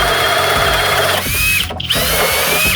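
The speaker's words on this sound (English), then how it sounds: "We can throw in even a big 2 9/16 hole bore." A FLEX cordless drill with an all-metal Jacobs chuck boring a 2 9/16 inch hole, a loud close motor whine that bogs under load, briefly cuts out, then spins back up.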